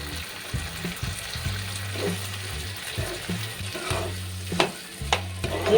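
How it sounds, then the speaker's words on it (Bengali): A spoon stirs boiled red lentils through sautéed vegetables in a pan while cooking sago khichdi, producing steady scraping and soft wet sizzling with a few sharper clinks of utensil on metal, close by, with no talking. "মসুরের ডাল দিয়ে এবারও আমি নাড়িয়ে নিচ্ছি।"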